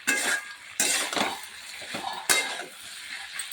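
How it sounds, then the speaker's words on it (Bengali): Spices are stir-fried in a pan for a potato, pointed gourd and fish curry, with a spoon scraping and clinking against the metal in irregular strokes over a soft sizzle, close up with no talk. "আর পটল আলু মাছ দিয়ে ঝোল হবে, কষাচ্ছি মশলা দিয়ে।"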